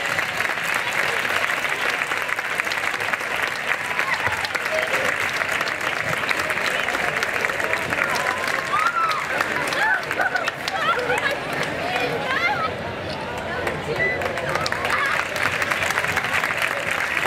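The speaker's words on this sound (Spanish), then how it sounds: "Así que yo quiero que para Pedro y Paco un fuertísimo aplauso." A large audience applauds loudly and steadily at a tribute ceremony in San Pedro Alcántara, the clapping sustained for over fifteen seconds with some cheering and crowd chatter mixed in.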